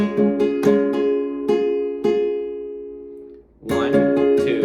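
Flamenco guitar strumming a bulería compás in triplet phrases, with sharp rasgueado strokes ringing out over sustained chords, a brief pause, then a burst of fuller strums close and alone.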